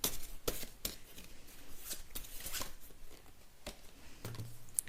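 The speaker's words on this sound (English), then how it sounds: "I will start with shuffling your tarot cards." Tarot cards being shuffled by hand for a reading: a steady run of soft papery riffles and sharp flicks with several brisk snaps, fairly close and alone with no talk.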